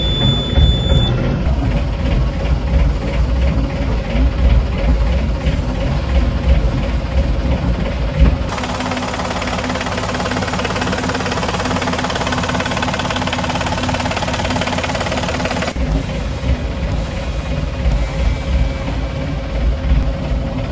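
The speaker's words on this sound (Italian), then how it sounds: "Il motore è stato in moto per un po', non ha dato nessun problema" A boat engine idles steadily with a low, continuous rumble and rhythmic knocking, its tone shifting slightly partway through.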